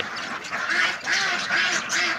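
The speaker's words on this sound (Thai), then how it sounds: "นี่เป็ดเป็ดไข่เลยพี่" Egg-laying ducks of a CP Super crossbreed quack in short, raspy bursts, close by and repeated in a rough rhythm over a noisy farmyard background.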